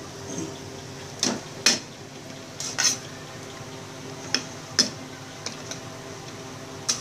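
Stirring a pot of potato curry during cooking, heard as a handful of sharp metallic clinks and scrapes of a utensil against the pot, spaced irregularly over a quiet kitchen background with no talk.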